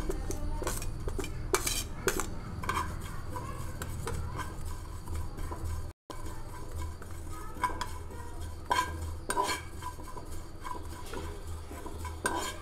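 A metal spoon scrapes and clinks against a wok while mango pickle seeds are dry-fried, with irregular stirring strikes over a low background hum and a brief dropout midway.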